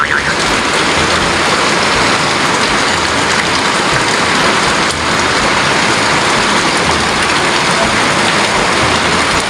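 Steady downpour during the rainy weather brought by Typhoon Verbena: a loud, continuous hiss of rain drumming on nearby surfaces, unchanging for the whole stretch with only a brief dip in the middle.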